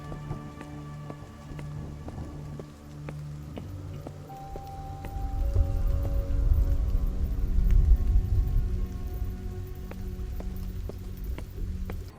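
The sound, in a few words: rain ambience in the video game Amid Evil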